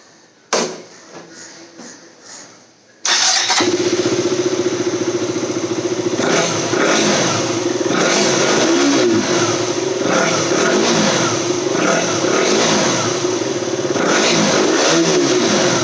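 A motorcycle starts after a few quiet seconds, then runs loud and close with repeated revving swells over a steady engine drone, left standing unused for a long time.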